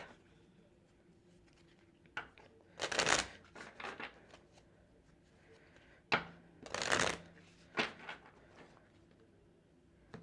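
Tarot cards shuffled in two distinct bursts of riffling, each a quick loud flutter followed by softer taps and slides of the deck, recorded up close in a quiet room.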